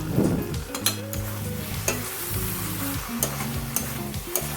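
Mixed vegetable curry frying in a pan with ground cashew and sesame paste, stirred with a spoon in irregular scrapes and clinks over a steady close sizzle, alone without talk.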